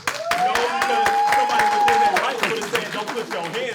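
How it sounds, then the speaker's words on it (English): Studio audience applause at a reality-show reunion taping: a burst of scattered, uneven claps with a whistle and voices mixed in, fairly loud and close, lasting a few seconds. "If you feel that Phyll was within his rights, give me a round of applause"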